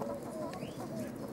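A red mottled hen clucks softly and steadily, close by, with a low murmur of farmyard noise underneath and no talking.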